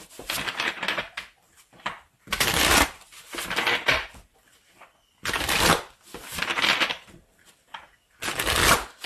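Tarot cards are shuffled in repeated bursts of crisp riffling and slapping, each lasting about a second, separated by short quiet gaps, close and clear.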